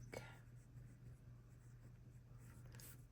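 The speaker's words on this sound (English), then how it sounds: "And I'm just test writing the quick" A fountain pen with a Conklin or Monteverde nib scratches across paper in a quiet room, a soft continuous writing rustle with a steady low hum beneath.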